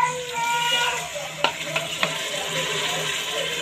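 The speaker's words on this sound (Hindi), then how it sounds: "देखिए, मैंने इसमें पानी डाल दिया है।" Masala frying in a pot for kala chana (black chickpea) curry, with water poured in: a steady sizzle and bubbling, a few sharp clinks of a spoon against the pan near the middle, and faint talk over it.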